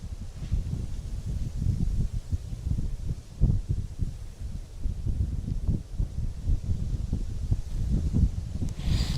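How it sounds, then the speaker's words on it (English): Gusty wind buffets the microphone in a continuous low rumble, rising and falling in uneven surges with no voices. "it's really windy and it's really like fine rain, so it goes kind of sideways"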